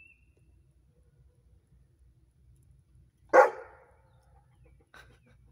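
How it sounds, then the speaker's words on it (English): A dog on an off-grid homestead gives one sharp, loud bark against near silence, followed a moment later by a much fainter second yelp. "Yeah, you've got quite a bark, don't you?"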